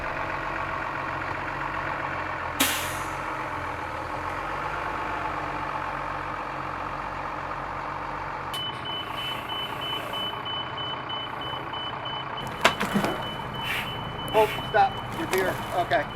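A 40-foot bus manoeuvres and reverses into a back yard, its steady engine idling under repeated reversing beeps, with sharp knocks and clatter near the end and voices talking over it.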